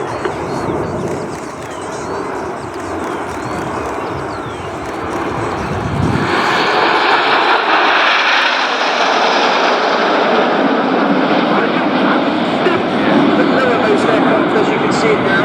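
Red Arrows jet aircraft flying the Diamond formation at an airshow, a distant rumble that swells into a loud, sustained broadband jet roar, with an announcer talking over the approach.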